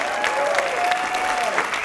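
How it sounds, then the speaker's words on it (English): An audience at the Carpinteria community awards banquet claps steadily in honor of an honoree, with a whistle-like tone drifting over the crowd. "Yes, give her a big applause."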